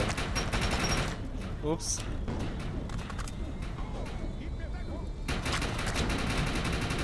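Gunfire in the online shooter game Defiance: rapid, dense bursts of automatic weapon fire crackling almost nonstop, with brief lulls and a loud renewed volley near the end, while someone talks in German over it.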